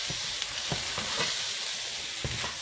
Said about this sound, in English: I'm going to throw all the vegetables back in and coat those vegetables with the pesto